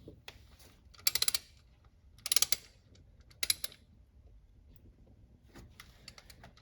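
Tap cutting threads for a head bolt thread insert in a Hyundai 3.3/3.5 engine block, turned by hand with a wrench: three short bursts of close ratcheting clicks separated by quiet pauses, with a fainter click near the end.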